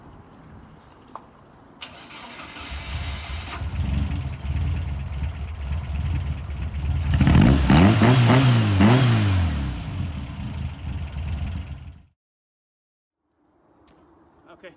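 A car engine cranks and catches after being doused with water, then revs up loudly for a few seconds before cutting off abruptly, with a voice talking around it.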